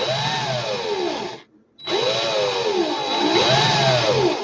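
A power drill whirs steadily while twisting wire under heavy tension for coil work, its pitch rising and falling in arcs, with a brief stop near the middle before it spins up again, close and loud.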